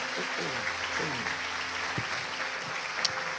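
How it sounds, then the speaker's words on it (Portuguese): A church congregation applauds, a steady dense clapping that fills the room at moderate volume, with a voice speaking faintly underneath. "Mais uma vez, família Manassés aplaudindo a Jesus."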